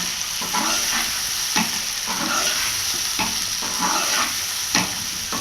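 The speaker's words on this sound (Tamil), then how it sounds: "நான் இப்போ போட்டிருக்கிறது ரெண்டு வாழைக்காய் நல்லா கிண்டி வச்சுக்கணும் எண்ணெயில் கிளறணும்" Plantain pieces fry in oil for Chettinad vazhakkai varuval while being stirred, a loud close sizzle with rhythmic scraping strokes of the spoon roughly every second, no talk.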